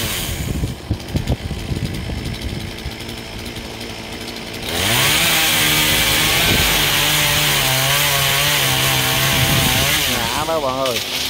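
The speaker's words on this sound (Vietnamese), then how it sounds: "chú mình bắt đầu cưa nhánh to nha các bạn." A chainsaw cuts a big branch of a large star apple tree beside a major road, the engine idling unevenly before revving to a loud, sustained high whine that holds steady and wavers near the end.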